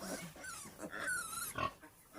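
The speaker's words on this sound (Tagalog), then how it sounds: "Katay sila ng baboy." Pig squealing during slaughter: several short, strained squeals and grunts, fairly faint and distant.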